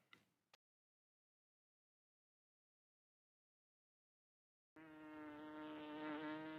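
A fly buzzes close by with a clear, droning hum after a long silence, steady and rising slightly in strength toward the end.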